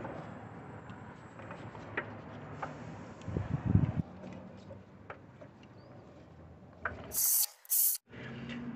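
A ratchet tightens bolts on a plastic intake during a spark plug job on a 2016 Ford F-250 6.2, with quiet clicking and handling noises close by, a short rub, and two loud spray bursts near the end.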